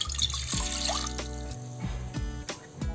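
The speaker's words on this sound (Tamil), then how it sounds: "ஒரு டம்ளர் தண்ணி ஊற்றிக்கலாம்." A tumbler of water is poured into a kadai on the stove, heard as a close splashing pour with gurgles and drips that rise and fall in short bursts.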